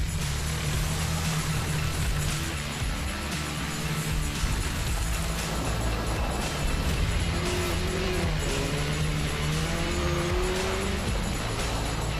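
Rallycross race cars at an ARX event at Mid-Ohio, loud continuous engine roar with rising gear tones and tire noise, heavy and sustained throughout.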